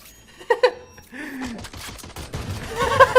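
Gunfire in Valorant, a tactical shooter game: a couple of quick, sharp shots near the start, then game noise under players talking and laughing.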